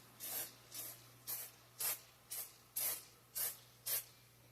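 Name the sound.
cooking oil being sprayed onto tater tots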